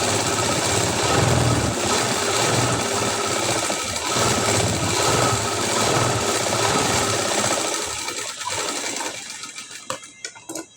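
A sewing machine stitches a high neck blouse in a steady, continuous run that is close and loud, then slows and stops near the end with a few faint clicks.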